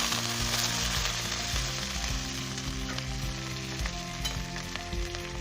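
Finely chopped ginger, garlic and curry leaves sauté in hot oil in a pan for a squid roast, giving a close, continuous sizzle with occasional stirring scrapes and no talking.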